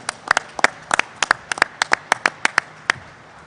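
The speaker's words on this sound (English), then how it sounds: "Let's give them a big round of applause for what they've done and what they're doing." Applause at a New York governor's news conference on coronavirus: a small crowd claps in scattered, sharp, fairly close hand claps for about three seconds, with no talking.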